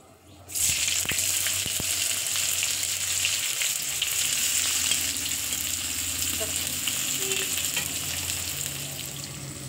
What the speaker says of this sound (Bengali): সব পেঁয়াজ কুচি দিয়ে দিলাম। এবার দেখেন একটু লাল লাল করে ভেজে নিয়েছি।